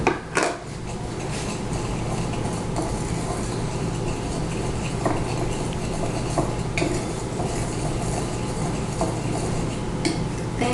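Flour is stirred into creamed cookie dough in a bowl, producing continuous close scraping and thudding of a utensil with light clinks, loud and unbroken by talk.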